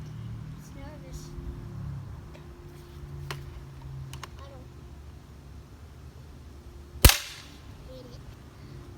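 A single sharp shot from a pump-action BB gun pumped ten times rings out once near the end, loud and close, after a stretch of low background murmur and talk.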